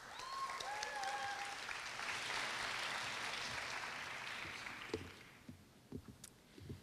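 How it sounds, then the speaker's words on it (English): Applause from an audience at a university graduation ceremony swells, holds for a few seconds, then fades out into scattered last claps and quiet room noise. "Let's welcome her with a round of applause"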